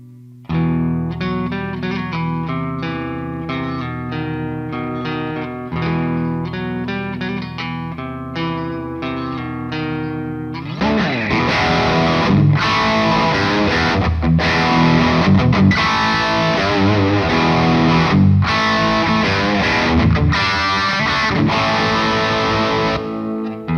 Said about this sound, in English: let's take a listen to what the blower switch does